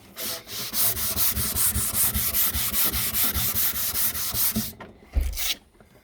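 Sandpaper rubs back and forth over an antique pine and mahogany Victorian chest of drawers in quick, even rhythmic strokes, close and steady, before a brief knock and a pause.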